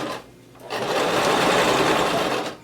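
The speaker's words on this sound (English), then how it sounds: "So lower your presser foot and keep sewing." Close sewing machine running steadily while stitching a jacket pocket seam on a duster coat, a dense continuous whirring hum after a brief quiet start.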